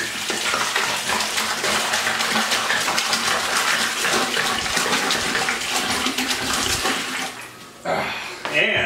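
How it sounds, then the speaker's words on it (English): Room-temperature water pours steadily into a bucket for an 8-gallon bochet mead, a loud continuous gushing splash that runs for about seven seconds before tapering off with a few brief clunks at the end. "So here is some water,"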